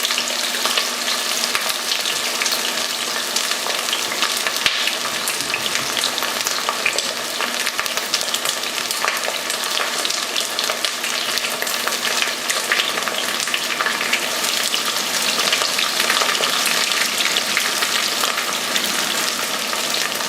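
Chopped onions sweating in a pan as the base of an octopus stew, giving a steady, even sizzle and crackle that runs without pause, fairly loud and close, with no talking.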